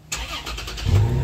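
A car engine cranks and catches on a snowy first day of winter in Grande Prairie, Alberta, with a brief starter whirr followed by a rising, close, steady low engine rumble.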